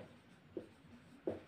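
Pen writing on paper during a class 10 maths lesson, soft scratchy strokes under a low room hum, with two brief louder taps as the pen marks the page.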